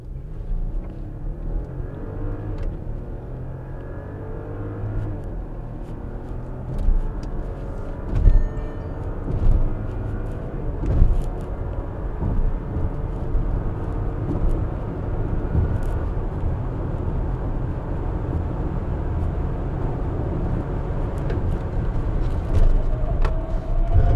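A 2020 Volkswagen Touareg accelerates hard, its engine building to a steady, loud rumble with a rising drone and road roar that holds for over twenty seconds, with no talk.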